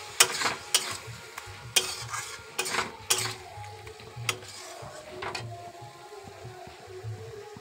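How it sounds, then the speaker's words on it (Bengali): Vegetables are stirred into a cooked spice paste for khichuri: a spoon scrapes and clanks against the pot in irregular strokes over a low, steady sizzle, close and clear. "তো এইটাকে ভালো করে নাড়িয়ে চাড়িয়ে মিশিয়ে"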